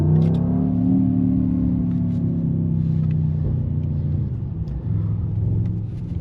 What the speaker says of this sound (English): Wow, it just takes off.